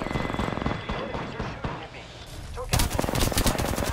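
Rapid gunfire in the game Apex Legends, bursts of automatic shots crackling under busy background noise, ending in a loud, sustained volley of quick repeated cracks close up.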